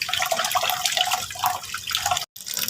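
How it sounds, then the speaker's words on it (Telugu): Rice and urad dal washed by hand in water for dosa batter, close sloshing and swirling splashes that run almost continuously, broken by one brief silent gap near the end. "నైట్ టిఫిన్ కోసం అయితే నేను ఇలా రైస్ని మినపగుడ్లని ఇలా వాష్ చేసుకుంటున్నాను"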